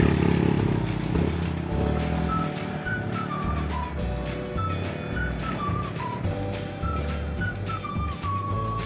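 Motorcycle being ridden on an outing, its engine a steady low rumble throughout with rattling and wind noise, while tonal whistling-like squeals rise and fall over the top.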